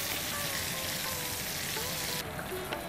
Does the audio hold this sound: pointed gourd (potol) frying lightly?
yes